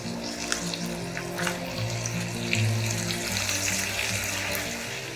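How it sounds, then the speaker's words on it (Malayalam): Wet soaked potatoes hit a pan of cooked onions for an aloo palak dish, setting off a loud, continuous sizzle and hiss that crackles steadily throughout at close range, with no speech. "ഉരുളക്കിഴങ്ങ് ഞാൻ വെള്ളത്തിലിട്ട് വെച്ചിരിക്കുകയായിരുന്നു, അപ്പോൾ അത് എടുത്ത് ഇതിലേക്ക് ആഡ് ചെയ്യാം"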